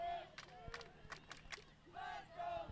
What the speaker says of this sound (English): Madison Academy side getting a little loud, cheering for their defense.